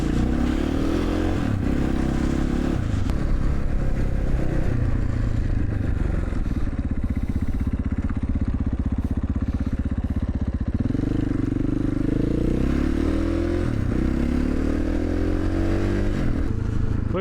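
A Kawasaki motorcycle (a 1976 model) idles and then revs as it rides off, its engine droning steadily with rising and falling pitch sweeps as it accelerates through gears, close and loud.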